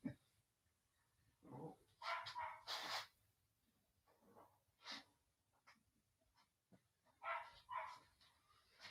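A dog barks repeatedly in the background of a workshop where a gasser cylinder head is being assembled, the barks coming in irregular bursts at moderate distance with no one talking over them.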